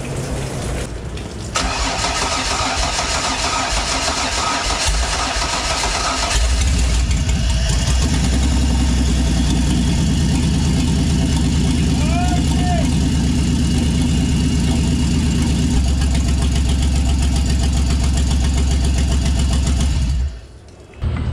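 A supercharged 3800 V6 swapped into an 1985 Pontiac Fiero GT with a five-speed manual cranks and catches, then idles loud and steady up close for most of the time before cutting off.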